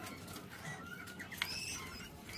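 A single soft dove-like coo and thin chirping call from a bird, fairly faint and close, set against quiet background hiss with no one speaking.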